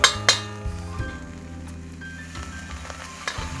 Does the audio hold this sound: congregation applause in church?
no